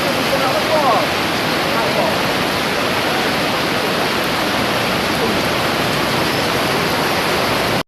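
Rushing floodwater roars in a dense, constant wash of noise, loud and unbroken before cutting off abruptly at the end.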